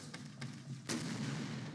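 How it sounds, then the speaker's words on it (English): An exploding barbed-wire trap in a Fire Pro Wrestling match goes off as a single sharp blast, followed by a sustained low rumbling roar. "The Baron is the first to suffer that explosion."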